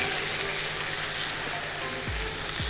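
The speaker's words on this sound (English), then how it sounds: "Hear that beautiful sizzle," Steak searing in about a teaspoon of olive oil in a nearly smoking pan for beef wellington, a loud steady sizzle with a couple of low sliding clunks near the end.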